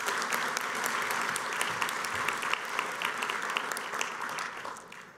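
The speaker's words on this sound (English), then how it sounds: "let's give her a hand of applause." Applause at a 2024 business meeting and awards presentation rolls on as an even, fairly quiet patter of many hands from a seated audience, with no talking over it.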